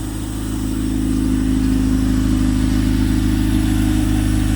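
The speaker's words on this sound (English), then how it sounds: "I'll give it some revs and stuff like that and you guys can really hear it" A Honda Civic fitted with a K20 engine idles, then its steady mid-pitched hum swells slightly as it is revved, close and continuous with no talking.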